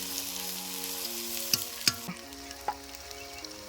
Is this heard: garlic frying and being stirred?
yes